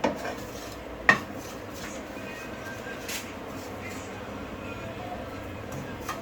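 Toasted breadcrumbs are scooped out of a pan, a soft scraping rustle with a sharp clink of utensil on metal near the start and faint taps afterward.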